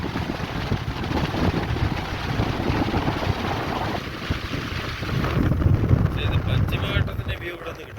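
Strong wind gusting across a high rocky hilltop in the Western Ghats, buffeting the microphone in loud, rumbling surges that swell and ease over several seconds, heard alone without talking.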